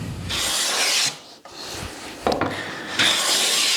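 A freshly sharpened hand plane cutting shavings from oak, giving three close, loud rasping strokes separated by brief pauses.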